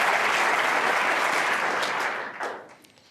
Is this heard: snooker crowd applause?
yes